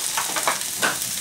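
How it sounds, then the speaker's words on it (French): Bell peppers and onions sizzle in a hot pan, a brief hiss with a few soft scraping stirs, close and quiet. "on va mettre tout de suite donc les poivrons et les oignons"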